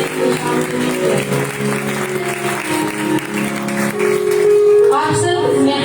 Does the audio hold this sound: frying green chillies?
no